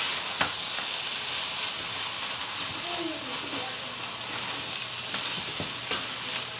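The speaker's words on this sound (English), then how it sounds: "I'm going to stir that around, get the egg on the bottom" Egg and rice are stir-fried together in a hot pan for fried rice. The close sizzle runs steadily throughout, with occasional scrapes of the spatula as the food is stirred.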